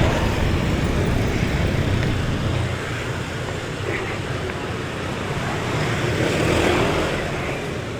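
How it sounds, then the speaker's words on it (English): Busy street traffic in Canggu, Bali, with a steady rumble of engines, motorbikes passing close by amid a constant roadway drone. "So many motorbikes."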